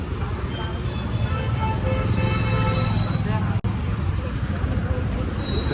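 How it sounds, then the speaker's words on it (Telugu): Busy city road traffic in Dhoolpet, Hyderabad, with cars, buses and scattered horn toots in a steady roar, while people talk nearby throughout and a brief bump breaks in midway. "ట్రాఫిక్ చూడరు."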